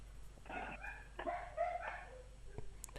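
A suburban dog barks and whimpers a few times in the background, faint and short, alongside quiet distant noise.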